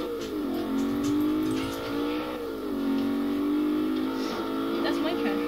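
Revving engine of a player's car in a racing video game, a steady droning tone whose pitch sweeps up and down with throttle and gear changes, loud and continuous while a voice talks over it.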